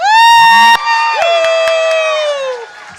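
An audience at a teen poetry slam cheers for the poets with a loud, sustained whooping yell up close that tails off, and faint clapping beneath it.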